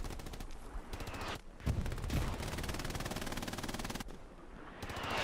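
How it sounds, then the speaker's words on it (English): Bursts of MG42 machine gun fire in the World War II shooter Hell Let Loose on the Stalingrad night map, rapid tearing automatic volleys near and loud, with brief pauses between bursts. "MG42."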